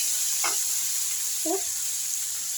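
Citron leaves frying in a pan for chutney make a steady, bright sizzle, broken by two short scrapes of stirring, with no talking.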